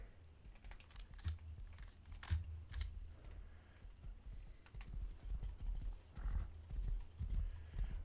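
A horse gallops in a video game, its hooves making a steady, rhythmic clip-clop of close, thudding beats, with keyboard clicks mixed in.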